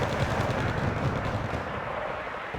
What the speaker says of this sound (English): All that smoke support and mortar support coming in from Holly